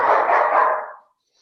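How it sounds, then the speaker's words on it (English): Dogs barking make one loud, close, rough burst that holds for about a second and then cuts off into silence. "those dogs are nuts"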